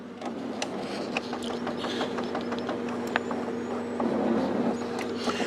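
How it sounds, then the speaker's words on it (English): A Brother MFC-J885DW inkjet printer running a print head nozzle check, giving a steady mechanical whir with repeated clicks and ratcheting ticks from the moving parts, close by with no talking. "Give me a print head nozzle check here."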